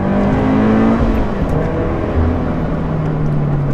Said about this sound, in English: It's got an aftermarket exhaust, but to be honest, as a 4-cylinder, it doesn't sound all that great.